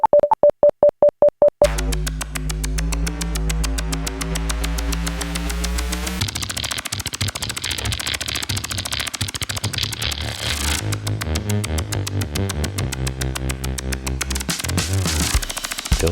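A wireless looper machine started from a phone app runs a startup sequence: a few short beeps, then loud sustained electronic tones that shift, sweep and stutter in pitch, harsh and continuous for the rest of the stretch.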